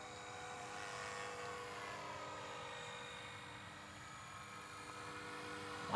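A Blade Eclipse 360 RC helicopter flies and hovers outdoors, its rotor and motor making a steady, fairly faint droning hum that barely changes over six seconds.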